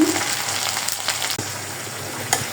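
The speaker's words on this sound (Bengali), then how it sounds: "আদা রসুন বাটা দিয়ে দিলাম" Ginger garlic paste and spices sizzle steadily in a hot pan, a close, continuous frying hiss with a couple of brief clicks, no voices.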